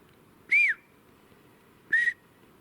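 Two separate whistle calls, each about a quarter second long, ring out clearly in a Bigfoot-hunting video game, one rising then falling and one level, set against a low, steady ambient bed of game noise.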